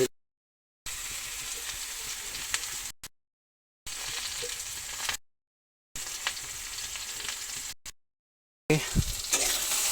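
Green banana slices frying in a pan, a steady sizzle broken into several bursts with brief silent gaps between them, fairly close and moderately loud, with no one talking.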